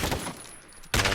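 Vector submachine gun hip-fired in Call of Duty Modern Warfare: a dense, rapid burst of automatic fire opening the moment, a short lull with a faint tone, then another loud burst near the end.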